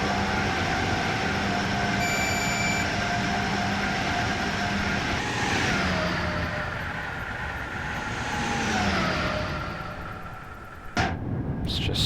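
An Amtrak Acela Express tilting high-speed train running in Train Sim World, with a steady loud rolling rumble and hum, pitch sweeping down as it shifts, and a sharp burst near the end; no talking.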